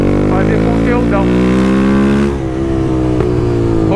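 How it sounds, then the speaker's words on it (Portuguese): A Honda CB Twister motorcycle fitted with a Dore retro exhaust revs loudly and close by, its steady engine drone rising and falling over four seconds, with someone talking over it. "Rodrigo colocou o escapamento Dory retrô, mano. Boquinha retrô. Na twister dele."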